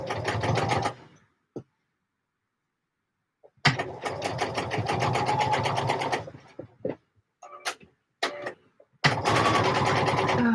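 A sewing machine stitches fabric for a Closet Case Patterns pouf in stop-start bursts: a short run, a pause, a longer run, then brief taps and a final run, close and loud.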